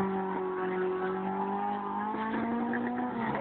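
Historic BMW race car climbing a hill-climb course, its engine holding a steady, strained high-revving drone that rises slightly in pitch as it passes close and loud, with no voices over it.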